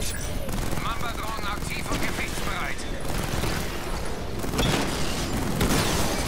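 Gunfire rattles through a busy action scene in the Batman Arkham Knight video game, with dense bursts of shots, booms and clanking mechanisms layered under music and game voices throughout.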